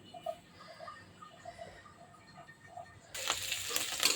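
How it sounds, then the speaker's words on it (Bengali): Onion and chili hit hot oil for frying fish, giving a soft crackle with faint pops that bursts into a louder, steady sizzle near the end, close by with no talk. "মাছ ভাজার জন্য পেঁয়াজ মরিচ দিয়ে দিয়েছি।"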